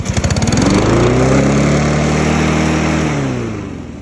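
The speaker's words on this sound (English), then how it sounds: "if you have a Honda lawnmower that does this when you first go to start it after putting gas in it" A Honda lawn mower engine racing at excessively high RPM right after starting on fresh gas, settling from a few quick pulses into a loud, steady high-pitched roar close by that slowly fades near the end.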